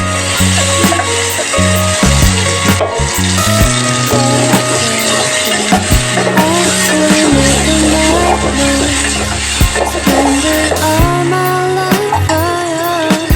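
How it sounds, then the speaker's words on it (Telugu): Blended tomato juice sizzling in a hot pan for tomato curry, a steady hiss and crackle throughout, partly masked by loud background music. "నేను టమాటో జ్యూస్ చేసి పెట్టుకున్నాను మిక్సీలో, దాన్ని వేసుకుంటున్నాను."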